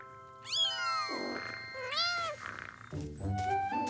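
A small, strong kitten meows several times in rising and falling cries close by, with brief pauses between calls and no talk over them.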